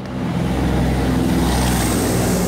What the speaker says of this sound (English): 18 to 24-wheelers cruising past us.